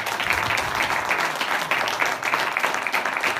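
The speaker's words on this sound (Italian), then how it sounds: "al quale va anche un applauso" Steady, dense applause from a live concert audience for the Cuore Aperto association choir, a continuous wash of many hands clapping at even loudness throughout, with no speech over it.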